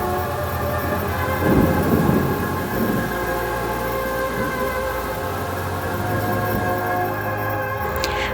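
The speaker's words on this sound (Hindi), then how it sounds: "रात के 1 बजे लाहौर की सुनसान गलियों में बारिश बरस रही थी" Steady rain pours at night on deserted Lahore streets, a dense continuous hiss with a low rumble of thunder rolling underneath, loud and unbroken throughout.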